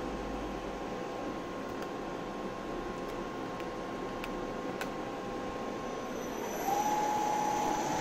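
An epoxy granite CNC mill spindle turns at 1000 RPM, giving a quiet, steady hiss with a faint constant whine; a higher tone joins in near the end.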